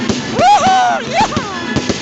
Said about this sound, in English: Wow, this is dynamite firework display now.